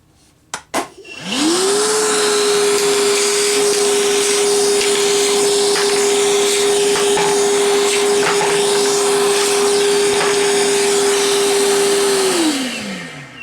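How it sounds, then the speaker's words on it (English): A Milwaukee M12 Fuel cordless vacuum on high whirs up to a steady high-pitched whine, rattling as it sucks up nuts, then winds down at the end. "Let's see if this vacuum on high is able to slurp up all of these goodies"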